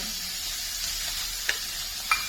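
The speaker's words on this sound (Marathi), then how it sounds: "आणि ह्या भाज्या घालून छान परतायच्या" Vegetables sauté in a pan on a low gas flame with a quiet, even sizzle. Two brief clicks of a stirring utensil come near the end, and no one speaks.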